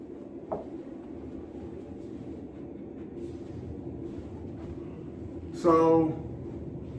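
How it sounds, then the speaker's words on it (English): Low rumble of a train rolling past in the background during a soundproof window installation, steady throughout, with a brief loud voice-like burst near the end. "Sorry about the train noise there."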